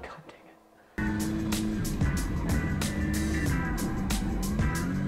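A drift car with a sequential gearbox at a Final Bout drifting event roars at high revs, a loud, continuous, gritty engine note that bursts in abruptly and holds with rising and falling pulses.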